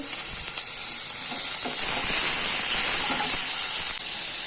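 Tomatoes hit a hot pan and sizzle steadily, a loud, continuous frying hiss that holds up close for the whole stretch with no voices.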